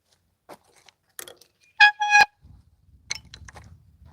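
A car horn gives two quick honks in succession, loud and close, between long stretches of near silence with a few faint clicks and a low rumble afterward.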